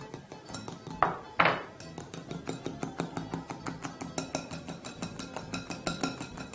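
Whisk beating sugar into meringue in a bowl, a fast, even series of sharp clinks and taps against the bowl, close and steady throughout with two louder knocks early on.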